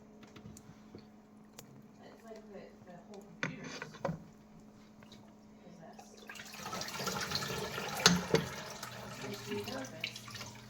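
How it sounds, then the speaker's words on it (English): Wet yarn and a t-shirt are squeezed and splashed into a dye pot, giving a dense burst of dripping, sloshing water after quieter rustling. "I'm just going to kind of squeeze the water out and submerge them in the pot"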